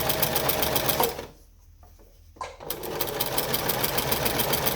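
A sewing machine stitches the sleeve seam of a white school shirt with a fast, close, rattling hum, pausing for about a second in the middle before starting up again and running steadily to the end.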